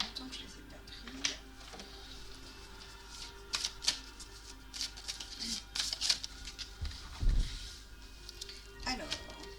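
Tarot cards shuffled and drawn by hand, giving soft papery riffles, taps and flicks in irregular bursts, close and quiet, with faint background hum.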